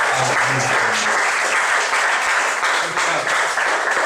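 A church congregation applauds during a Portuguese-language evangelical service, a dense, steady wash of many hands clapping throughout, with a brief murmur of voices underneath.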